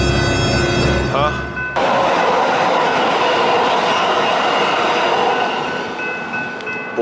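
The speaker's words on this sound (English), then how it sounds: "Train coming?" A train rumbles past at close range, loud and steady with rail clatter for several seconds, while people talk and exclaim over it.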